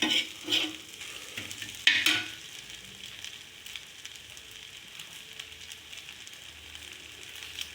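Dosa batter sizzling on a hot stone griddle over a gas stove, a soft steady frying hiss punctuated by a few brief scraping clatters near the start.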